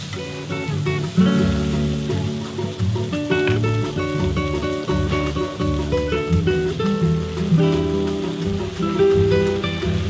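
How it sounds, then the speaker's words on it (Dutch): Scampi prawns are wok-fried, giving a loud, continuous sizzle close by, with a melodic music track playing over the frying throughout. "Het wokken van scampi's moet natuurlijk snel gebeuren."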